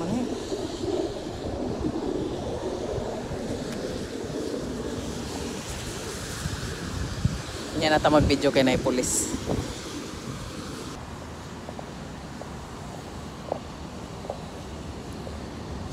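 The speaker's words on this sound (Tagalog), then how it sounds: "sobrang lakas ng hangin" Very strong wind blows through Dubai during a rainstorm, a steady roaring rush that runs throughout, with a brief clattering burst midway and people talking over it.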